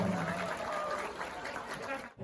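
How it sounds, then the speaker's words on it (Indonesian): An audience at a ceremony gives a short burst of applause, a dense, fairly distant wash of clapping that cuts off abruptly near the end. "tepuk tangan sekali lagi dong"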